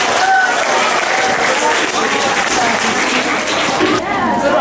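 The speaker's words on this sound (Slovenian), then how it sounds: "en aplavz še za obe ekipi" Loud, sustained audience applause for both teams at a UNESCO quiz competition, a dense continuous roar of clapping from a close crowd, with a voice faintly heard underneath.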